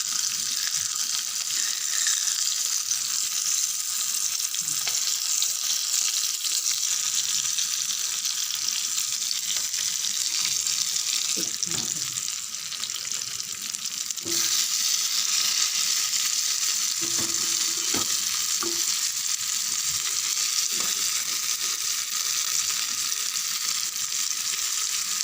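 Stingray fish pieces frying in a pan over low heat, giving a steady broadband sizzle throughout with a few soft clinks and stirring sounds, no speech.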